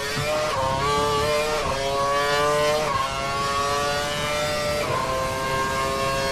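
An Formula race car in an Xbox racing game revs at full power, a loud, whining engine note that climbs in repeated rising sweeps with brief dips at each gear change, heard alone without talk.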